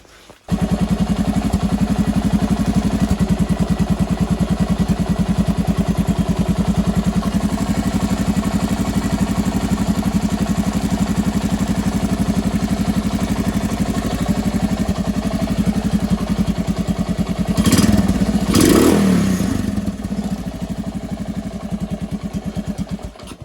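A Honda TLR200 trials motorcycle engine idles steadily and loudly up close, holding a low, even putter with a brief burst of clatter near the end.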